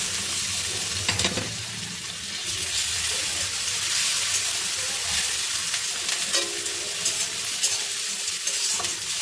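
Grated onion paste added to chopped onions already frying in hot oil, a loud, steady close-up sizzle with stirring scrapes throughout and no voices.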